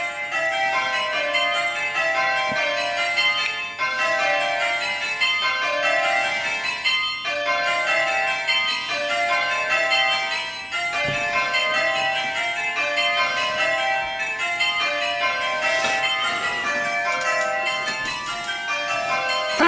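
Eight tower bells rung in plain hunt sound in a steady, continuous stream of overlapping strikes with a regular rolling rhythm, loud and close, with no talking.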